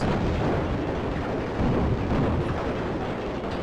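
Missiles firing and exploding in the shoot-'em-up Raptor: Call of the Shadows, a dense continuous roar of overlapping blasts and rumbling detonations with no gaps, loud and unbroken throughout.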